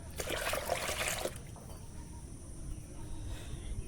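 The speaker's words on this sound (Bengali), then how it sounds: "সর্ষের খোল পচা তরল সার নাও তার পাশাপাশি এতে মিক্স করবে সম পরিমাণে জল" Water trickles into liquid fertilizer made from rotted mustard cake, a close pouring splash for about a second before quieter dribbling fades into background.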